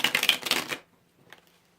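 A tarot deck being shuffled, a dense burst of rapid crisp card riffling that stops abruptly, followed by a quiet pause and a soft tap.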